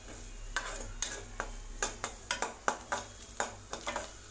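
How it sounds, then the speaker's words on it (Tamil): Chopped ginger is sautéed in a pan, with a spoon scraping and knocking the metal in quick, even strokes over a soft sizzle. The stirring is close and sounds in a steady rhythm of about a dozen strokes. "அதேமாதிரி இஞ்சி சேர்த்துட்டு நான் நல்லா வதக்கி விட்டுட்டேன்"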